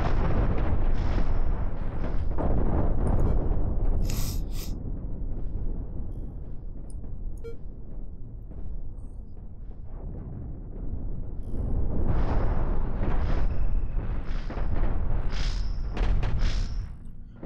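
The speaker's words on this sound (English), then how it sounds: "At least that big cannon can deal with this." Big cannon firing in the space game Cosmoteer: repeated heavy booming blasts and rumbling explosions, loud and dense, easing briefly in the middle before another burst of firing.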